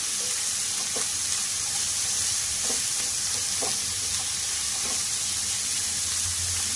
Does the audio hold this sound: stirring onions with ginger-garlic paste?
yes